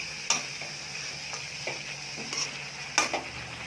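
Cabbage stir-fried with curry leaves for a Tamil cabbage poriyal, a soft steady sizzle broken by a few sharp scraping stirs and clatters of a spatula against the pan, nobody speaking.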